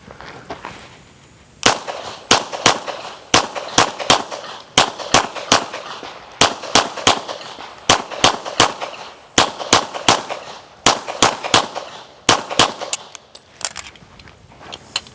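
Pistol shots ring out during USPSA practical shooting training, sharp cracks in quick strings and pairs with brief pauses between, loud and close across the whole stretch.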